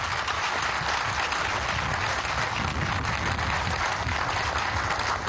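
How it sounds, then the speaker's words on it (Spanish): Audience applause for José at a meeting held in the Caracas Metro workshop yard: steady, dense clapping from a crowd, sustained evenly throughout without a break. "un abrazo, un aplauso a José"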